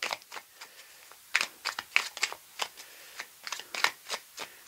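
A deck of tarot cards being cut and shuffled by hand, with crisp, irregular papery flicks and riffles coming in quick clusters, close and quiet, with no voices.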